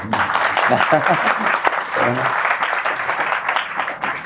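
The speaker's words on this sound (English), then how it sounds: "And he got a big applause, people are clapping." Applause from a crowd at a Rath Yatra gathering in Hyderabad, a dense steady clapping that continues for several seconds, loud and close, with a voice speaking briefly over it at the start.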